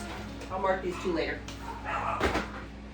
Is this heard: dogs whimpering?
yes